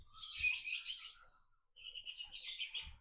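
A male lovebird chirps in rapid, shrill bursts, two long chattering runs separated by a short pause, close and loud.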